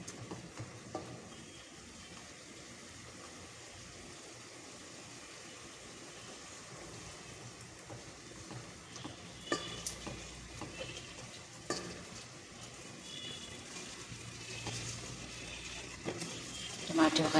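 Okra going into spicy minced-meat keema and being stir-fried in a pan, giving a low, steady sizzle with stirring scrapes that grow louder and busier toward the end; no one speaks.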